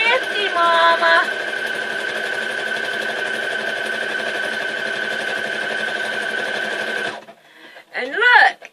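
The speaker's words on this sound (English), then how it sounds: "And I'm making a buttonhole." A sewing machine stitching a buttonhole in a flag, a fast steady whirring hum close by that runs for about seven seconds and then stops, followed by a short burst of talking.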